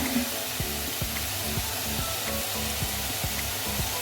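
Onions sizzle steadily in a hot pan for poha while a spatula stirs them in regular, repeating strokes. The frying is close and continuous, with no speech.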